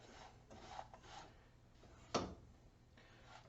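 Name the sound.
spice roasted nuts being stirred dry in a pan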